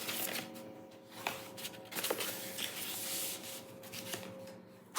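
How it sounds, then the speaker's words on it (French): A bone folder is dragged along paper folds to crease them for a cardboard tower box, producing soft close scraping and rubbing strokes in short repeated passes, fairly quiet. "vous marquez bien tous les plis qui sont faits à 5 cm"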